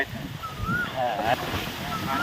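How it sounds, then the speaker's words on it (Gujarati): Strong wind blowing across a sorghum field, a steady close roar of gusts buffeting the microphone, with faint whistling tones. "કલાકથી ફૂલ પવન ચાલુ થઈ ગયા"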